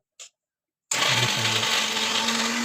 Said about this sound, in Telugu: దీన్ని చల్లగా అయిన తర్వాత మిక్సీలో వేసి గ్రైండ్ పెట్టుకోవాలి